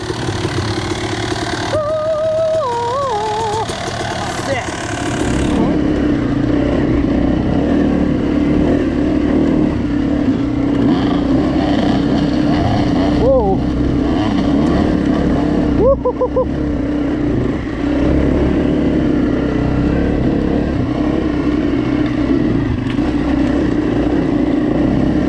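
A Honda CR250R two-stroke dirt bike fitted with a new exhaust pipe runs loud and close, its engine droning and rising in several revs over a steady idle, with other trail bikes nearby.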